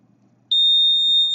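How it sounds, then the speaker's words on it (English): The buzzer of a homemade rain alarm built from CFL components, set off by a raindrop on the sensor: after a moment of near silence it jumps into a loud, steady, high-pitched tone that holds on unbroken. "you will hear the buzzer sounding"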